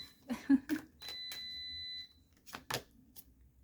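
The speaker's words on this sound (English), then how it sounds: "Don't worry about that sound if you can hear it. That's just my air fryer timer" An air fryer timer goes off with a single sustained electronic beep lasting about a second, heard in the background between faint voice sounds and soft clicks.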